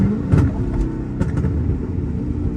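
A Hellcat Chrysler 300's supercharged engine rumbles and revs loudly and close, a steady deep roar with a couple of sharper throttle blips near the start.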